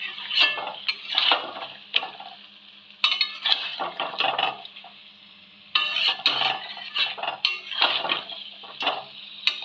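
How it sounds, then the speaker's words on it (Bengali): A spoon scraping and clinking in a pot as potatoes are mixed into chicken curry, with irregular bursts of metallic stirring and knocks separated by short pauses. "এবার আলুটা এর ভিতর দিয়ে দেবো আলুটা মাংসের সঙ্গে ভালো করে মিশিয়ে নেব"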